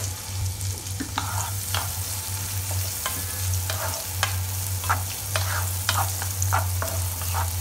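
Chopped onions frying in a dollop of butter in a pan, with a continuous close sizzle broken by scattered crackles and pops and a low steady hum underneath.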